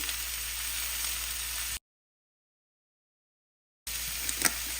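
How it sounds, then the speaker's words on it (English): Onions, ginger, green chilies and peas sauté in a pan for rava upma, a steady soft sizzle broken by a stretch of complete silence, then resuming with a small stir. "I will go ahead and add the peas as well. Saute it for about a minute or two."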